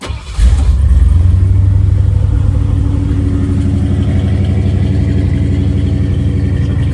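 A 1978 Ford Bronco's 351 V8 cranks and fires up, then settles into a loud, deep, throaty rumble that holds steady close by.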